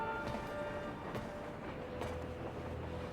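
Steady rolling rumble of a train in motion from the video game Crisis Core, a continuous low mechanical drone with faint rhythmic clatter and a few brief higher screeches, moderately loud and unbroken throughout.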